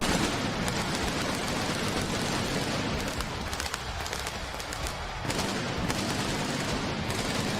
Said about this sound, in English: To show you how much of a difference concussion pyro makes, here are two examples.